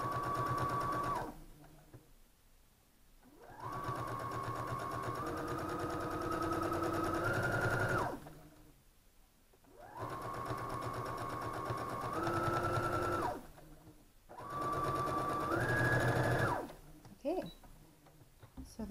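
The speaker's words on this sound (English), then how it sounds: "I need to sew on the sew line for these other pieces that we marked" Domestic sewing machine stitching quilt pieces for a double outlined five-pointed star along a marked sew line, running in three long steady bursts with short pauses between, close and fairly loud.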